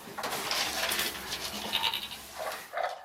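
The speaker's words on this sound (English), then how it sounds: "Now we're gonna give the goats the goat food." Goats bleat while being fed their goat food, a few cries rising over a busy, noisy background with rustling and a faint clink.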